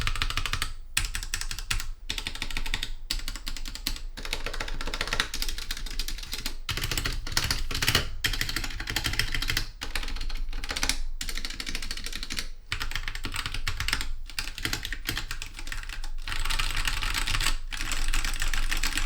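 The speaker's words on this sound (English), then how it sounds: "we're gonna do a sound test comparison versus the brown versus red switches" Typing on a Royal Kludge RK84 75% mechanical keyboard with brown and red switches, a dense run of quick, close key clacks in bursts separated by brief pauses.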